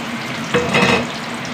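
Four finely chopped small shallots fry in a teaspoon of hot coconut oil, a close, steady sizzle that swells briefly louder midway.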